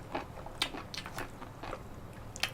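Someone bites and chews enoki mushrooms drenched in mala sauce close to the mic, with repeated crisp, crunchy bites and wet chewing in an irregular rhythm over a faint steady background.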